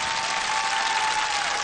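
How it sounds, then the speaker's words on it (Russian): Ovation from a concert audience after a duet by a violinist-singer and another performer: a continuous roar of clapping with crowd noise and a faint sustained tone, loud and uniform for under two seconds. "Еще раз большие овации!"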